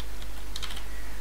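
Typing on a computer keyboard while coding, a short burst of light, quick clicking keystrokes close by over a steady low hum, with no talk.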